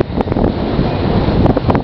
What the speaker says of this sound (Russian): Как всегда дует ветер.